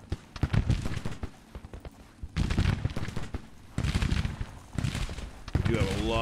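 Repeated booming artillery fire from 24-pounder howitzers of a Maryland battery in a Civil War battle video game, with bursts of cannon and musket fire at close range, loud and continuous in clustered volleys.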